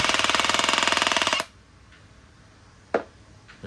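A Makita oil-pulse cordless impact driver hammers close by in a fast, even train of pulses for about a second and a half, then stops, leaving a single sharp knock in the quiet after.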